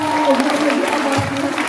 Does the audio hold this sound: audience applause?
yes